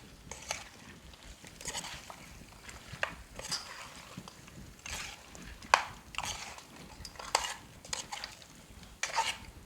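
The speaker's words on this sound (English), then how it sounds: "Okras, edo, and the saijan. Mix it together well." Spoon scraping and clattering in a pot while okra, eddo and drumstick (saijan) are mixed into a masala for armored catfish curry; repeated stirring strokes with occasional metallic clinks, fairly quiet and close.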